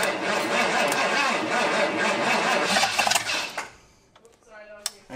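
A flooded Ford F150 engine cranks and catches, running rough and loud for about three and a half seconds before dying away, leaving a few faint clicks and a sharp knock in near quiet.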